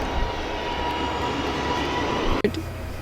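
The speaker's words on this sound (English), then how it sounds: "right now we're gonna see a plane taking off" Fixed-wing airplane engines roar steadily and loudly while taking off at Madeira Airport, a continuous broad rumble with a brief dip and thump near the end.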